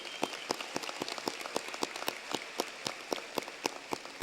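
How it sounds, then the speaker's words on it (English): An audience at a 2018 high school commencement ceremony applauds in a dense, even stream of claps that holds at moderate loudness throughout, with no voices over it. "let's give them another round of applause"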